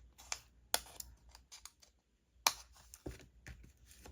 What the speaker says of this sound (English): Okay, so I'm gonna trim this now.